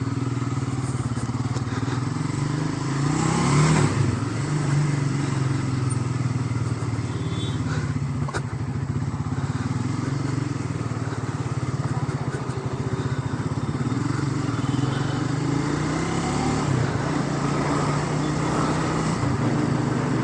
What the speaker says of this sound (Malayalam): ആ സൈലൻസറിൽ നിന്ന് വരുന്ന ഒരു തമ്പുള്ള ഒരു സൗണ്ടും കേട്ട് വണ്ടി ഇങ്ങനെ ഒട്ടിക്ക്